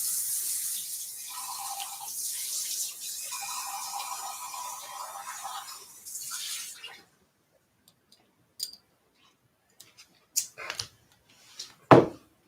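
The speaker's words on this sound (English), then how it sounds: "pour it out and start over" Liquid is poured out into a running kitchen sink, a steady splashing wash of water for several seconds that stops abruptly, followed by scattered faint clicks and small knocks.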